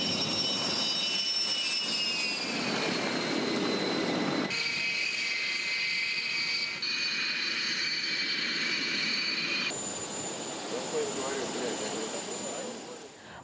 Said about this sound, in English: More than 50 aircraft are taking part in Russia's mission in Syria